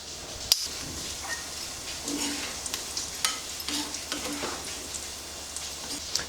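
Bread slices frying in hot oil, cooked to a light golden brown, give a steady, soft sizzle and crackle. The spatter stays moderately quiet and continuous, with an occasional sharper pop and faint clinks from handling in the pan.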